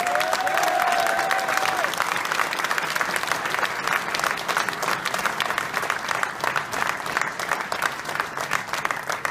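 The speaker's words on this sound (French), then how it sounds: "je vous demande d'applaudir le grand vainqueur de cette première Star Wars, qui est Johan Housset." A crowd at the SIPAC 2018 fishing competition in Amiens applauds the winner. The clapping is sustained and loud, with a brief whistle-like tone near the start and some crowd noise underneath.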